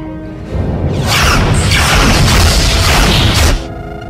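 Starship phaser fire in a science fiction scene: a loud, sustained burst of energy weapon discharge that swells in and cuts off sharply, with no talk.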